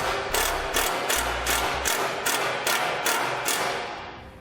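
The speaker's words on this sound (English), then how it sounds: "you want to grab a self-tapping screw and get a hole started in the metal" Self-tapping screw driven into trailer metal by a power driver, a rapid run of about nine evenly spaced ratcheting clicks heard up close with no talk.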